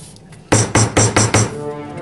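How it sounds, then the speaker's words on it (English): A hammer taps a paint can lid shut with five sharp, evenly spaced knocks, loud and close, after a short quiet lead-in. "you have to close it with a hammer,"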